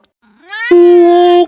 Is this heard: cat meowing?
yes